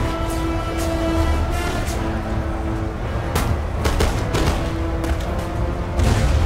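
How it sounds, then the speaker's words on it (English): Artillery fire in a Napoleon: Total War battle in a swamp, with dull booms and sharp impact cracks scattered among a steady din of combat noise and a sustained low drone, moderately loud throughout. "That was a decent artillery hit."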